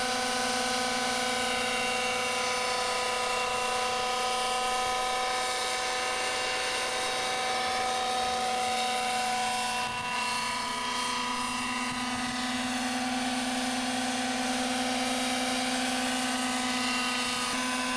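A model RC helicopter's rotor spins steadily at high revolutions, a continuous loud whine and buzz that holds unbroken throughout with no voices.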